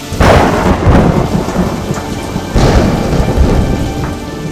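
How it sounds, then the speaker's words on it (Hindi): Heavy rain pours steadily while two loud rolling thunder crashes break in, one at the start and one midway, each rumbling and fading back into the downpour. "एक समय पृथ्वी पर कार्बन डाइऑक्साइड की मात्रा इतनी अधिक बढ़ गई कि आसमान से एसिड की वर्षा होने लगी।"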